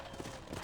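Horse hooves clip-clopping in Red Dead Redemption, two distinct hoof-beat clusters in a short burst over a soft background bed, fairly close and moderate in level.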